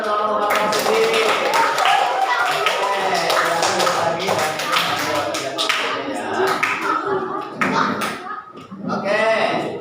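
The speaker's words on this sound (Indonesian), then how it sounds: "tepuk tangan untuk Abu Bakar Siddiq" Classroom applause for a student group, a burst of clapping from many hands mixed with chatter and voices, close and lively throughout.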